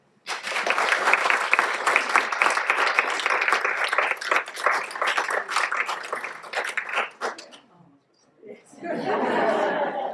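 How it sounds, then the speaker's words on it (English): An audience at an awards evening gives winner Owen a long round of dense applause, with scattered laughter in the crowd, then a brief pause before a voice speaks. "please join me in congratulating Owen and giving him a round of applause"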